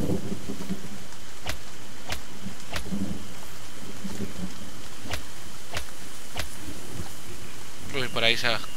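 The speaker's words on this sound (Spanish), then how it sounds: "aquí se tira todo el día lloviendo" Steady rain hisses throughout in the video game The Stomping Land, with sharp periodic clicks and a muffled voice rising near the end.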